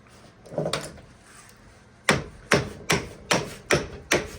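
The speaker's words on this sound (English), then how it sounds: "I'm gonna hammer those down just so that one's real bad. Hammer that down to make it slide right through." Transformer core laminations are hammered down by hand in a series of sharp metallic strikes. Two softer taps come first, then six loud, evenly spaced blows about half a second apart, close up.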